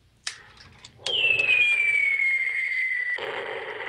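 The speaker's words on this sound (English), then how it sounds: "Oh, it's a fireworks projector." A fireworks projector toy plays a synthetic fireworks effect in a darkened room: a sharp pop, then a long descending whistle lasting a couple of seconds before cutting off, fairly loud and close with no talking.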